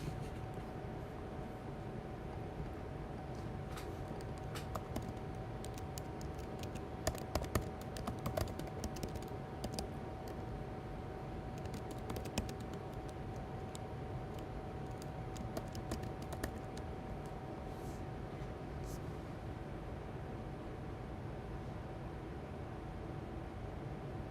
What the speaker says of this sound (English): I'm going to type in an alert real quick.